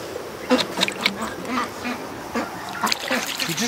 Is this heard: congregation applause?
no